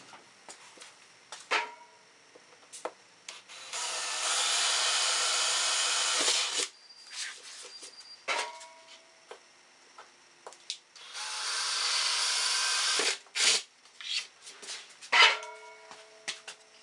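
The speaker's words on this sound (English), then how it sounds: "where I'm going to drill for the wires" Power drill boring holes through a panel to route subwoofer amplifier wiring, in two long sustained bursts of several seconds each, separated and followed by short clicks, taps and handling knocks nearby, with no talking.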